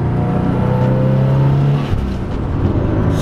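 A 500-horsepower turbocharged Subaru STI engine roars close by as it accelerates in third gear, its rising drone steady and loud, then briefly dips before pulling again.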